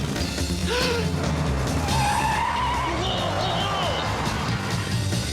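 A cartoon vehicle hauling a trailer brakes hard and skids, a long, loud tire squeal wavering over roaring engine noise and rumble, with possible voices in the mix.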